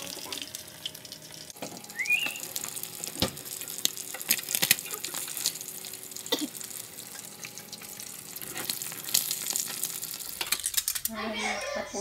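Food fries in a pan, a light sizzle and crackle under a few sharp clinks and knocks, with a brief burst of running water near the end.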